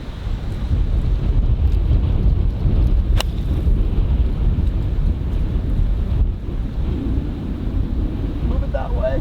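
Strong wind on an open golf course rushing across the microphone as a continuous loud roar, steady for the whole stretch with faint sounds mixed in.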